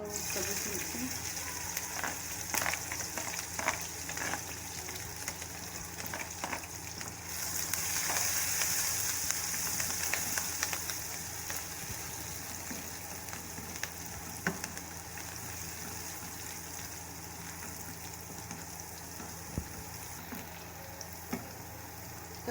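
Sliced green chilies fry in a pan with a continuous sizzle and occasional stirring clinks. A brief gush of water sounds partway through.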